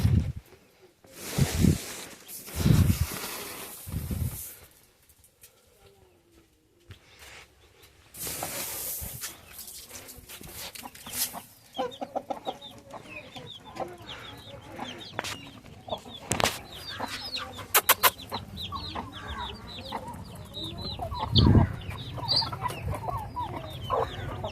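Hens of the Medak native breed clucking and calling on a poultry farm, with bursts of clucks and squawks scattered through a noisy barnyard backdrop and a few loud nearby thumps.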